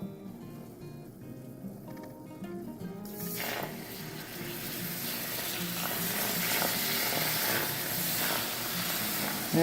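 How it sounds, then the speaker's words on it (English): Whole milk poured into a pan of golden browned sauce for a cheesy bacon potato dish, a soft steady liquid rush and rising sizzle that builds and continues for several seconds, close by with no talk. "So now what we're going to do is we're going to add our milk."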